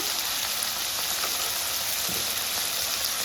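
Two tomatoes sizzling in hot oil in a pan for chole masala, a steady, dense frying hiss that holds evenly throughout, with no voices over it.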